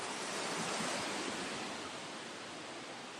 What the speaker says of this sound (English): This waterfall's too loud.